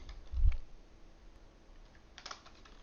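Keys tapped on a computer keyboard while a name is entered into trading software, a brief soft cluster of clicks near the start and another faint burst later, quiet and close.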